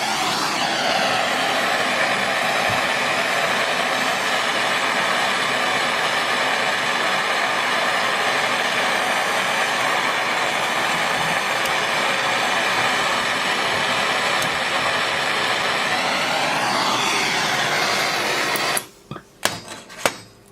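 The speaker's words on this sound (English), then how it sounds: "Turn your blow lamp on and you're going to slowly sweat this side of the fitting until it becomes loose." A blow lamp flame roars steadily and close while heating a copper pipe fitting to sweat the solder loose, a dense continuous hiss that runs unbroken for most of the clip before cutting out near the end with a few clunks.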